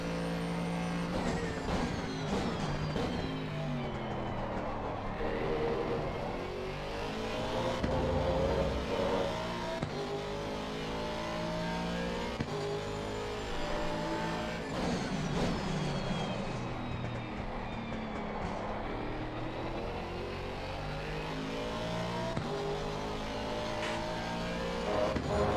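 Race car engine in the Live for Speed sim racing game at Hungaroring, a continuous droning roar that climbs and falls in pitch through gear shifts and revving, heard fairly quietly with no voices.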